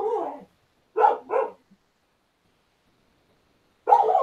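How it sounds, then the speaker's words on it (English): A dog barks indoors in short sharp bursts: one bark, then a quick double bark, a pause of silence, and another bark at the end, fairly close and loud. "She's probably barking at herself."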